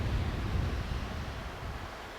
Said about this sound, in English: we're just getting cold wind off the glacier